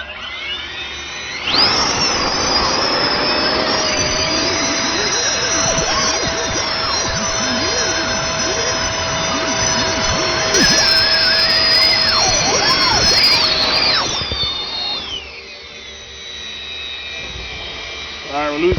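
Motors on the SparrowUDD aircraft run through a thrust test, a loud, steady high-pitched whine that wavers slightly in pitch for about thirteen seconds before winding down.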